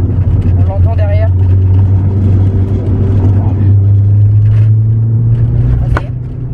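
A Volkswagen Golf 2 turbo on ethanol, its engine droning steadily from behind in a low, continuous hum while someone talks over it close by.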